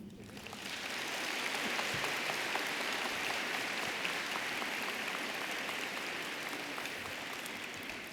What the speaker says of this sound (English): You may now applaud.